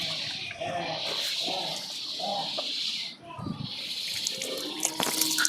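Water poured over hands for washing at a village home where a meal is being cooked on a clay stove, a steady splashing trickle lasting throughout, with a brief dip near the middle and people talking over it.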